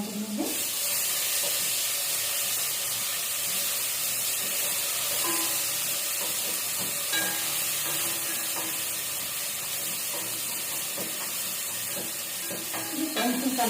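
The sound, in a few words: ginger garlic paste sizzling in hot oil for crab curry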